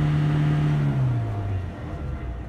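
A 2015 Ford Transit T350 high-roof LWB van engine held at high revs, a loud steady hum that slowly winds down as the revs drop, with no voices.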